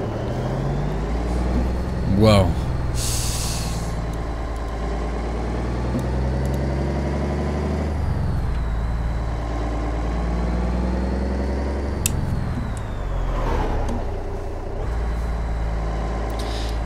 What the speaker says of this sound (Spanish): Me gusta muchísimo cómo suena el motor, suena impresionantemente bien.